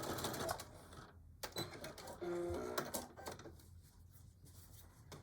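Sewing machine back-stitching on a Christmas table runner, a quick mechanical whir and needle clatter in short bursts, close and fairly quiet, with fabric handling noises around it.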